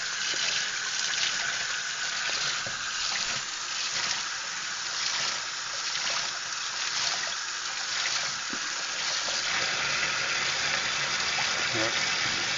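Cold water runs steadily from a tap while a clogged, moldy sponge is rinsed and worked by hand, a continuous hiss and splatter with faint scrubbing shifts and occasional soft voices underneath.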